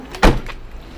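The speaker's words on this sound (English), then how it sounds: "Just lock up the car." A single solid thump of a car door shutting outdoors, close and fairly loud, followed by a faint short electronic chirp as the car is locked.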